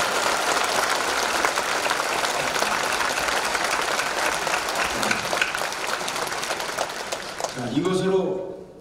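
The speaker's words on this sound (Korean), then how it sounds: "뜨겁게 한번 박수 드리겠습니다" A church congregation applauds Pastor So Kang-seok at his thanksgiving service for installation as vice-moderator of the Presbyterian Church in Korea (Hapdong), a dense, sustained roar of clapping that fades near the end as voices and a brief tone emerge.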